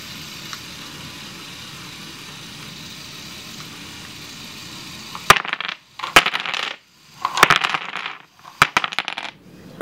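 Jenga blocks tumbling from the bucket of a motorized LEGO Volvo L350F wheel loader (set 42030), following a low steady motor hum; a burst of clattering wooden blocks comes in uneven clusters in the second half.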